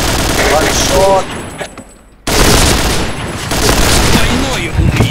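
Rapid gunfire bursts and shots in the online shooter Point Blank, loud and dense with short gaps, mixed with game effects and a voice talking over them.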